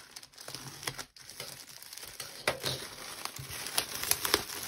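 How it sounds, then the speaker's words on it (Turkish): A package torn open from the back during an unboxing, with close crinkling plastic and papery rips in irregular bursts, one sharp tear near the middle and denser crackling toward the end. "son paketimizi hemen açalım. Ben böyle şu arkadan açıyorum hemen"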